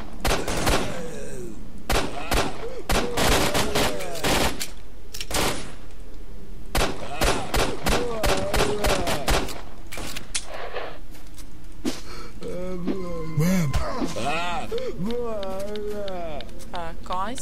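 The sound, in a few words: NPC gunfire in the video game Lost Alpha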